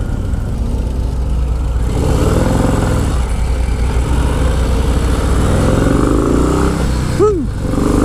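A 2025 Harley-Davidson Low Rider S motorcycle rides along with a steady, loud engine drone mixed with heavy wind rush, ending in a brief rising rev.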